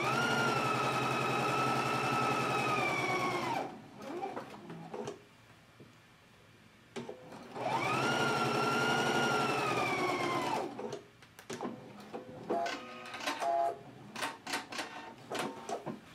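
Sewing machine stitching a 5/8 inch seam on a garment facing, two sustained whirring bursts of a few seconds each, separated by pauses with small clicks and handling noises.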